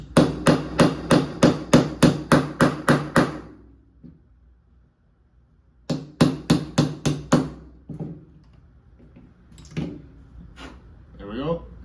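A hammer strikes a 1/8 inch roll pin punch in two quick, evenly spaced bursts of sharp metal taps, close by, followed by a few scattered clanks and handling noises.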